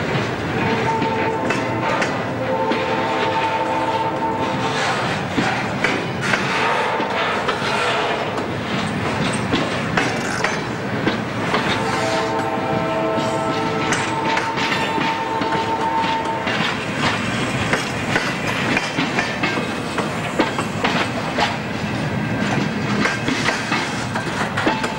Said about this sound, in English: That train with two locomotives and four articulated sets has set